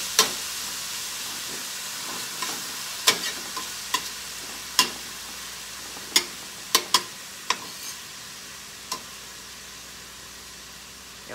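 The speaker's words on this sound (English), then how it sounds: "Let's let this meat get kind of, not seared, but anyway, kind of cooked it a little bit on the outside" Bite-size pieces of meat frying in a skillet for homemade egg rolls give a steady, close sizzle. Sharp spatula clacks against the pan break through it now and then, and no one speaks.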